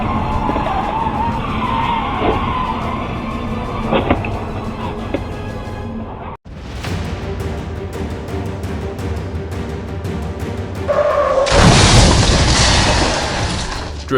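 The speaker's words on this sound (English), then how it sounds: "Drifting, the result is losing the car and the chance to own the Mustang." A Mustang drifts and skids with loud screeching tire noise and revving engine, broken by a sharp cut midway, then a harsher burst of broadband scraping or crash-like noise toward the end.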